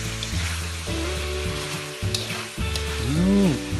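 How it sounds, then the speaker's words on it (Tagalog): Pork for Filipino-style pork and egg adobo frying in rendered oil, a steady close sizzle and crackle with a brief stir and a rising hiss of frying near the end. "So mapapansin nyo, nagmamantika na yung ating karne."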